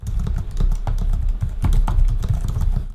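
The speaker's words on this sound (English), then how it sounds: "I liked typing with the keyboard, no problems to report." Continuous close-up typing on a gaming laptop keyboard, a steady patter of quick, crisp key clicks with no voices.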